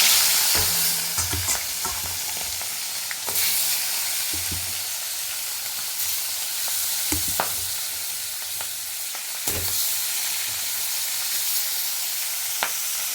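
Turmeric-coated pona fish pieces frying in hot oil in a kadai, a steady broadband sizzle running throughout with occasional louder crackles and spatters.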